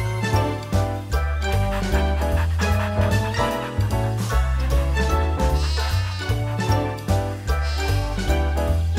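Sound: sheep bleating in a cartoon

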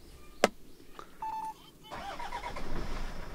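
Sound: 2001 Toyota Land Cruiser Prado turbo diesel engine starting

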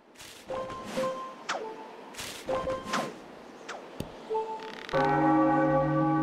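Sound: ringing a bell in video game Zelda: The Wind Waker HD

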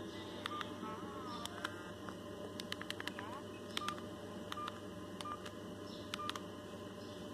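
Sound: telephone dialing tones

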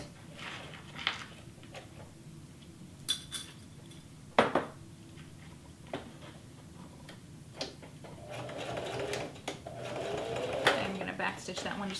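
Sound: sewing machine going over stitches on a cloth face mask

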